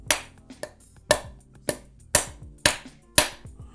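Two hammers held in the air and tapped against each other to knock out play, giving sharp metallic clinks about every half second, some doubled, clear and close with no talk.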